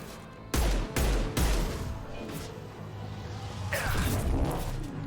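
Sharp gunshots ring out in Mass Effect 2, three loud cracks in quick succession early on, followed by a rumbling stretch and another burst of firing toward the end.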